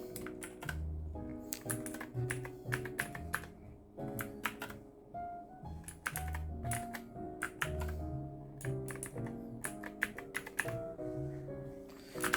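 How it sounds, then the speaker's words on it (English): Machenike K600 blue-switch mechanical keyboard typing in quick bursts of clacky keystrokes, close and crisp, with short pauses between flurries. "the keyboard sound compared to the original mechanical keyboard K600"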